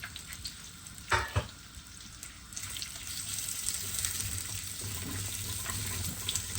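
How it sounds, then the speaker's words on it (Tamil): Chopped onions dropped into hot oil for a mango curry, with a couple of sharp clatters early on, then a steady close sizzle and stirring noise that builds and holds. "வெட்டி வச்சு கட் பண்ண ஒனியன் போடுவோம்."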